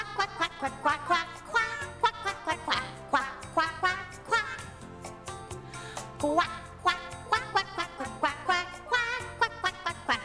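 A duck quacks over and over in short nasal bursts, a steady run of loud calls close by.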